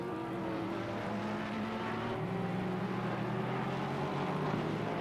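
Porsche and Ferrari GT3 race cars accelerate in Assetto Corsa Competizione, a steady, sustained engine drone with rising pitch bands, continuous and fairly loud throughout.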